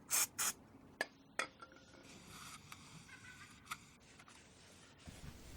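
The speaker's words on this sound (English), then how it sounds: "I'll clean the rotor using brake cleaner" Brake cleaner sprays onto the brake rotor of a 2014-2018 Toyota Corolla, heard as two short hissing spray bursts up close, followed by faint scattered clicks and rubbing.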